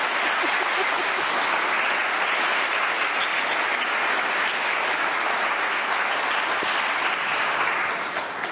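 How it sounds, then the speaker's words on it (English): A conference audience gives a steady, dense round of applause that holds at full strength from start to finish without any talk. "Can we have a lovely round of applause for Dr. Barker then?"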